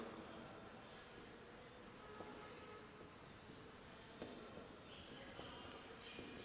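Chalk or marker scratching across a board during a history lecture, a steady faint scraping stroke after stroke with small taps, quiet and continuous with no speech over it.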